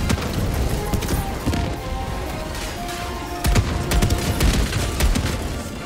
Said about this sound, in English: My mortar's gonna blow me up.